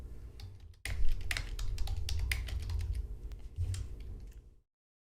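Rapid typing on a computer keyboard, a dense run of close, light clicks and taps with brief pauses, over a faint low hum, with no voices.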